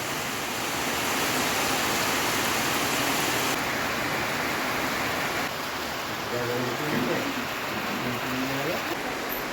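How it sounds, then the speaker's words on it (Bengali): Torrential rain pours steadily as a dense, even roar that fills the whole clip, with faint voices talking underneath toward the end. "মুসুলধারে বৃষ্টি"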